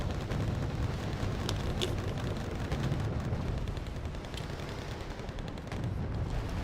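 Battle sounds from the wartime strategy game Wargame Red Dragon: a dense, continuous rumble of gunfire and fiery bursts, with sharp cracks scattered through a steady roar and no talking.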